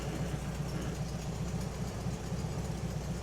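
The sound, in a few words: VW bus engine idling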